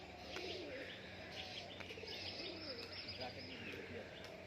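Standing performing pigeons from Murshidabad, soft cooing and chirping calls over a continuous faint background, some wing flutters, heard at moderate distance with murmuring voices.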